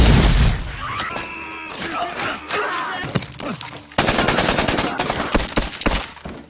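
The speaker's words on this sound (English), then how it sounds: "The men get in a shootout where David gets shot in the leg, and Seppo" Gunfire in a movie shootout scene: rapid bursts of automatic fire and single loud shots mixed with impacts and crashes, close and dense, with brief speech under the chaos.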